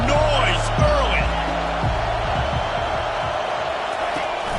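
Stadium crowd noise from a college football video game forms a steady, moderate roar beneath a play-by-play announcer talking over it, with a few thuds and faint whistles mixed in.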